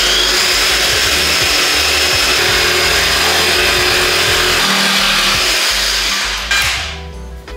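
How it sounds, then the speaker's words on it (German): A jigsaw cuts through a wooden board, giving a loud, close, continuous buzzing whine that holds steady, then stops abruptly near the end, leaving a brief fading tail. "das ist der erste Einsatz von meiner wunderschönen Stichsäge"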